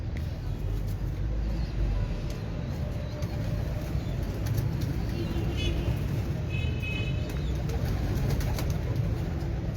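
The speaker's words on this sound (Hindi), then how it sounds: "साजी ये कौन सा कबूतर" Breeder pigeons coo and flutter on a rooftop among a constant low background rumble, with people talking nearby.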